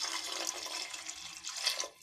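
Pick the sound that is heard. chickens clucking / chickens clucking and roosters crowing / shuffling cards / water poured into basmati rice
water poured into basmati rice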